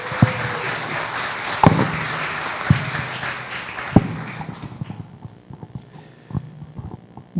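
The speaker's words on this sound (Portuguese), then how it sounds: "eu quero pedir uma salva de palmas para o nosso palestrante de hoje" Audience applause for a speaker at a lecture on the 1932 Constitutionalist Revolution, a moderate rattle of clapping with a few sharp louder claps, thinning out toward the end.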